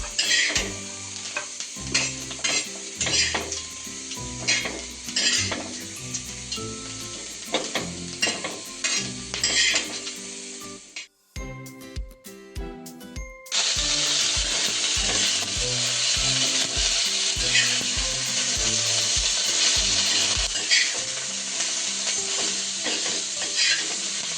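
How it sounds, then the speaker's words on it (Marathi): Village-style spicy black-masala mutton frying with tomatoes in oil, giving a loud steady sizzle with scraping spoon strokes. A short pause of rhythmic tapping comes midway before the sizzle returns even stronger. "तेल टाकून घेतलं आणि छान ते आता 5 मिनिटं भाजते"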